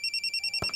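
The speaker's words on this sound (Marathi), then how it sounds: "मानसचा फोन आहे." A phone ringtone chirps in a quick, even series of electronic beeps, close and clear, with a soft thump near the end as the phone is handled.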